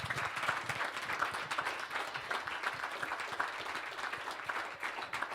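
A church congregation applauds together in praise of the Lord, a steady, fairly distant wash of many hands clapping that carries on without a break.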